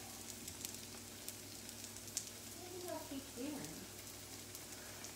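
Onions sizzling and frying in a pan while hamburger steaks cook, a faint steady hiss with small crackles, fairly quiet, with a voice talking briefly partway through.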